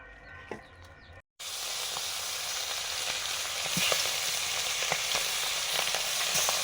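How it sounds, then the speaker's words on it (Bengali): Hilsa fish pieces frying in hot oil in a pan give a dense, steady hiss and sizzle with scattered pops. The sound grows louder after a brief break near the start, and no one speaks. "মাছ ভাজা শুরু করে দিলাম।"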